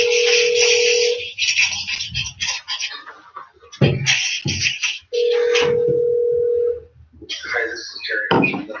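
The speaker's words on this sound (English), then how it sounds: "Wait, Duke is calling Jerry" A telephone call is placed on speakerphone during a city industrial development agency meeting: two long steady ringing tones sound through a speaker, separated and followed by noisy line sounds and voices in the room.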